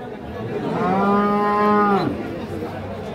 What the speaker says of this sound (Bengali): 15 লিটার দুধের গাভী।